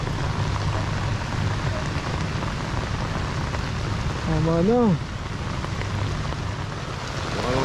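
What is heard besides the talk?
rain falling during storm while fishing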